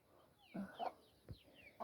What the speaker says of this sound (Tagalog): Native na manok.